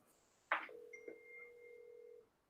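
Phone call tones over a speakerphone during a live show: a click, then a sustained electronic ring tone with a fainter higher tone above it, quiet and thin, lasting under two seconds.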